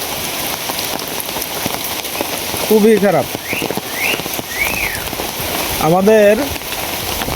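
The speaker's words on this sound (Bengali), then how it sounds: "এত পরিমাণে বৃষ্টি হইতেছে সকাল থেকে" Heavy rain pours steadily after a full morning of downpour, making a dense, continuous hiss on surfaces close by while someone talks over it.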